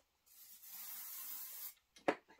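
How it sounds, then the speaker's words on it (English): A short burst of aerosol spray hisses steadily for about a second and a half onto the back of background fabric for quilting embroidery, followed by a few faint handling knocks and rustles. "I'm just going to give this a little shot of spray to the back."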